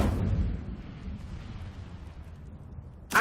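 An Incendio fire spell is cast in a Hogwarts video game: a deep, rumbling whoosh that swells at first, fades away, then ends in a sharp burst.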